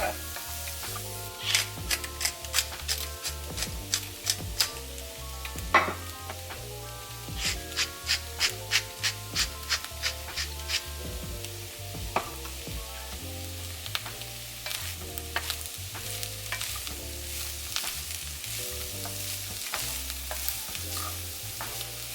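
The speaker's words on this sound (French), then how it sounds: "Je vais faire cuire ça à feu moyen jusqu'à temps que les champignons rendent leur eau puis que ça soit un petit peu doré." Mushrooms frying in a pan over medium heat, a steady sizzle broken by repeated scraping and stirring strokes that come in bursts throughout, close and fairly loud with no talking.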